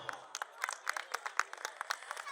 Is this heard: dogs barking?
no